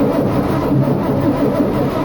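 Engine cranking on the Intercamino revival car, a steady close, continuous mechanical churn held at an even loudness throughout, without a clear catch or pause.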